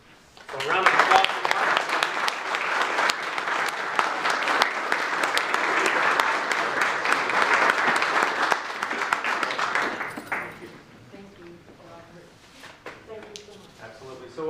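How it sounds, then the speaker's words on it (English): An indoor audience at a fire department anniversary and award ceremony breaks into loud, sustained applause for about ten seconds before it fades away as talk resumes. "So round of applause."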